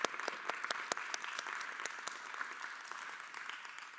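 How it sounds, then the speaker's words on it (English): A small audience at a technology panel gives a round of applause: sparse, distinct hand claps at first, thinning toward the end and fairly faint overall. "a big round of applause for that."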